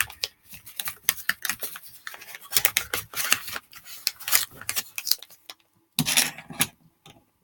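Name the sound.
scissors snipping a paper ring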